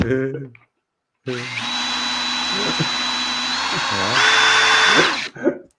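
A power drill runs steadily for several seconds, loud and close, its whine rising in pitch toward the end before cutting off, with a brief voice heard before it starts.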